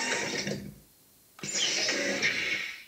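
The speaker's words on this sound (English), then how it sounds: "That's the sound of Siege Tank changing its mode." StarCraft Siege Tank mode-change effect played through a GravaStar Mecha charger and speaker: two bursts of mechanical whirring and servo-like clatter, separated by a brief pause, close and fairly loud.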